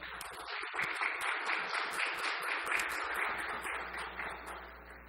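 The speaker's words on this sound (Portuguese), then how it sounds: "a quem peço uma salva de palmas" An audience at a cultural heritage ceremony in Jundiaí claps for about five seconds, a dense, steady wash of many hands that stays even and fairly loud before thinning slightly at the end.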